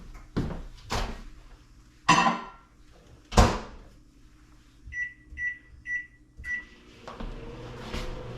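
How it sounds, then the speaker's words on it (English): Thumps of a microwave door and handling, then a few short keypad beeps and a longer beep before a low running hum starts. "I put it in the microwave on defrost for 1 pound for 1 minute"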